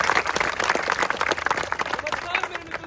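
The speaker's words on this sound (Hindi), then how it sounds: "इन सभी के जोश के लिए एक बार जोरदार तालियां।" Outdoor audience at a college street play claps enthusiastically, a brief burst of dense, uneven applause with crowd noise mixed in.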